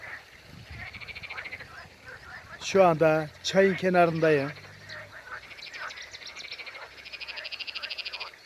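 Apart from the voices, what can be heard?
frogs croaking by a stream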